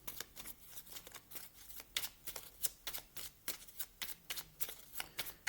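Tarot cards are shuffled and handled in a steady run of soft, crisp riffling flutters, close and fairly quiet, with no voice over them.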